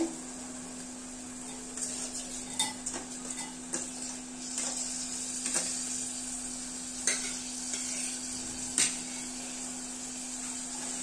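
Prawns frying in a pan for prawn rice: a soft steady sizzle with scattered clinks and scrapes of a spoon against the pan over a constant hum.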